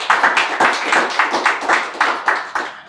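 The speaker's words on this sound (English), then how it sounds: "A round of applause again for them." A live audience claps in a quick, roughly regular rhythm, about a dozen sharp, close claps that merge into a short burst of applause for police officers. No voices are heard.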